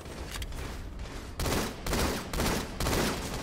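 Rapid bursts of gunfire in a competitive Halo match on the Lockdown map, King of the Hill mode, sounding as four loud, sharp blasts spaced roughly half a second apart, each followed by a brief tail.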